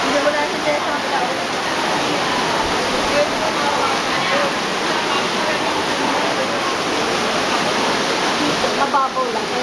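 Fast-flowing floodwater runs over a shallow road, a loud, continuous broadband rush like a torrent that stays steady the whole time without pause.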